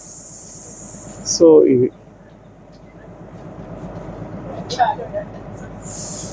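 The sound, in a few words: Kalka–Shimla toy train running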